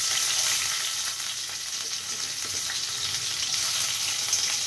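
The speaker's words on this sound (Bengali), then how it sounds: "পেঁয়াজটা ভেজে নিই।" Onions frying in a pan with a steady, close sizzle and crackle throughout, with faint scraping of stirring and no one talking.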